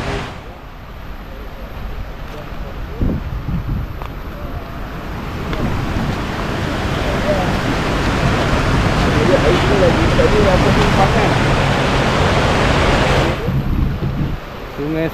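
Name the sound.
Selama river water flowing at campsite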